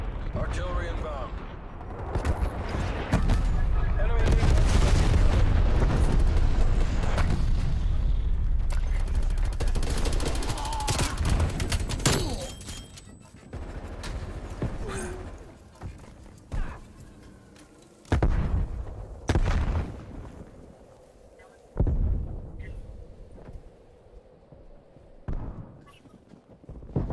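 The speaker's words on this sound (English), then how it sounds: "Artillery targeting detected." Artillery strike explosions in Call of Duty: Cold War boom and rumble heavily, with a long loud barrage followed by scattered separate blasts, while voices talk over the din.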